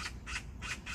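A magpie calls in a series of harsh, raspy squawks, four short bursts in under a second, fairly near over a low rumbling background.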